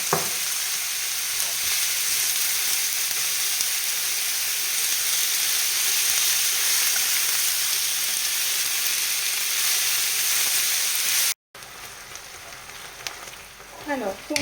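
Ground beef hitting a hot pan of caramelized onions, a loud steady sizzle and crackle of frying that fills the whole stretch, with a brief break near the end and a few scraping stirs.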